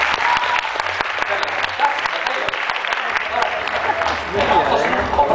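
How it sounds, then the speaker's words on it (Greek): Audience applause at the end of a performance in Kefalonia, a dense sustained clapping crowd heard throughout, fairly loud and continuous. "Το χειροκρότημα στο τέλος της Γεωργίας."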